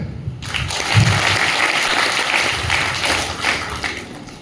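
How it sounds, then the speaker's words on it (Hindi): A seminar audience in a hall claps in a dense burst that swells and fades unevenly over a few seconds, with no voice over it. "ताली बजाओ।"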